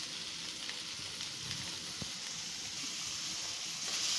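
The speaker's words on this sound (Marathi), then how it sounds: "तेल गरम झालंय, त्याच्यात लगेच हा बारीक चिरलेला कांदा टाकून घेते।" Finely chopped large onion sizzling in hot oil for pav bhaji, a steady close crackling hiss that holds throughout with a few soft pops and a brief stir scrape, no voices.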